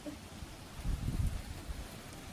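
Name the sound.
wind and heavy rain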